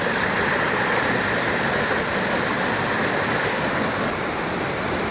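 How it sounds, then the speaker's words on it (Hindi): The Saraswati river at Kavilta in the Himalayan hills rushes and flows in the dark, a steady, dense wash of water noise filling the whole stretch without pause. "ये है आपकी सरस्वती नदी"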